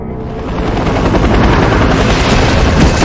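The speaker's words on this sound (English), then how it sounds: "We're dropping your team here, Deckard. Griffins are making it impossible for our choppers to get any closer to the Black Order tower" Military helicopter in a battle scene near the Black Order tower, a loud, dense rotor roar running steadily throughout with booming, gunfire-like rumble mixed in; no talking.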